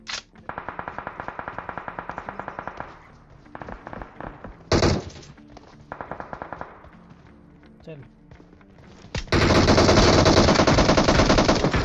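VSS rifle gunfire in a shooting video game: rapid bursts of suppressed automatic shots in several strings, then a loud sustained volley near the end, with someone talking in between.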